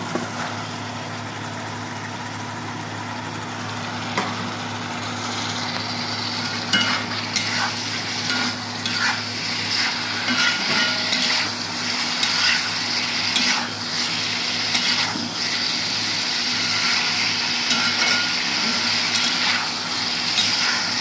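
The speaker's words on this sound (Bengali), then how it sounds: "তেল ছাড়া শুরু হয়েছে, এখন আমি মাছগুলো দিয়ে দিব।" Shing, or stinging catfish, frying in hot oil: a continuous close sizzle with repeated spatula clacks and stirring scrapes over a steady low hum, growing slightly louder, no talk.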